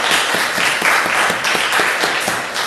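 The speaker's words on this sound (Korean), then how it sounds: "하나님께 감사의 박수 드리겠습니다." A church congregation gives a short burst of dense, steady applause lasting a few seconds, close and fairly loud.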